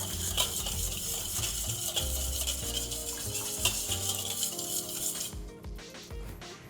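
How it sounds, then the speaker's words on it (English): Pancake batter with maple syrup whisked briskly in a bowl, a rapid continuous clicking and swishing of the whisk close up that stops near the end, with no talking. "I'm gonna give this a quick whisk to blend it all up."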